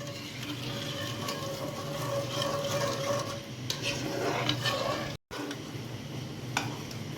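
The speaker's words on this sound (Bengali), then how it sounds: "আমি এটা সমানে নাড়তে থাকবো কেননা আমি এর মধ্যে কর্নফ্লাওয়ার দিয়েছি" Milk thickened with cornflour being stirred steadily in a pot for mango ice cream, a continuous close scraping and swishing with a faint sizzle underneath and a brief clink of the utensil near the end.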